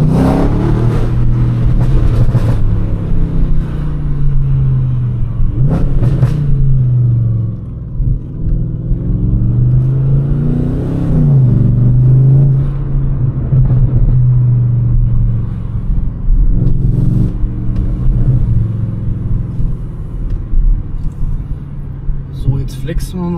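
Audi S7 engine revving while driving through a tunnel, a deep steady rumble that swells and eases in several throttle surges over the whole stretch, with someone talking over it throughout.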